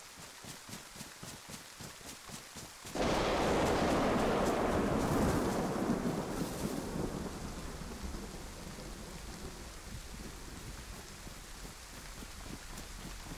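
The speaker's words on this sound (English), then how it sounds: "See if we can get out of the rain, get in this building" Thunder and rain in DayZ near the East Harbor: a sudden loud thunderclap crashes in and rumbles away over steady, continuous rainfall pattering on surfaces.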